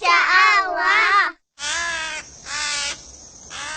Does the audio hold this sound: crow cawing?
yes